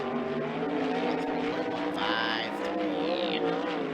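A 360 sprint car screams around Skagit Speedway on a hot lap, its high-revving engine loud and steady, with the pitch sweeping as it passes through the corners.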